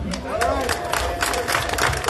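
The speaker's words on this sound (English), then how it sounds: "Another round of applause, please." Audience applause at a women's march rally, many hands clapping with scattered cheers and crowd voices, steady and fairly close throughout.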